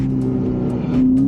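A Ferrari F8 Spider's engine runs steadily at close range while driving, a continuous loud drone with a tone that rises slightly toward the end, no talk over it.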